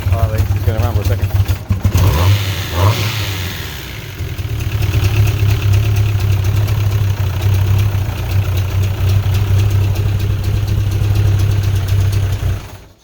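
A Caterham sports car with a 4-into-1 exhaust and a leaking exhaust gasket starts up and idles steadily, a low throbbing engine note running loud and close throughout, with brief speech over the start.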